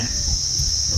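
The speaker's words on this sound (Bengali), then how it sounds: "ঝিঝি পোকা ডাকছে এখানে" Crickets chirp in a steady, shrill continuous trill in hill-country trees in the morning, over faint low background rumble.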